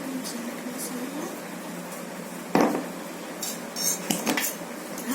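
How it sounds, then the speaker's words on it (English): A spoon mixing chaat masala in a bowl for a no-fire cooking dish, soft scraping with a few clear clinks of metal against the bowl, under a faint background hum. "I will mix it with the help of this spoon."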